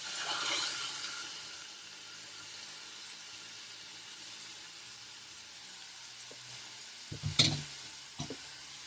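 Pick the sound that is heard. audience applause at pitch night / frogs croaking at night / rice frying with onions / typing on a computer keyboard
rice frying with onions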